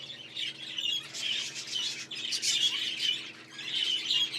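Budgerigars in a breeding stud chirp and tweet continuously in a busy, overlapping chorus, bright chatter rising and falling in dense bursts with a steady background hum, no voices present.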